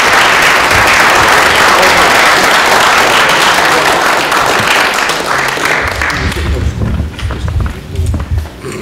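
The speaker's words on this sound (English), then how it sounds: "Round of applause." At a school district board meeting, an audience applauds loudly and densely for several seconds before the clapping thins out and fades toward the end.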